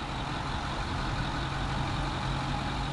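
A 2008 Ford F250 Super Duty crew cab with a 6.4 liter Power Stroke turbo diesel idling, a steady, close, loud diesel drone with a low hum and an even clatter, unchanging throughout, no talking.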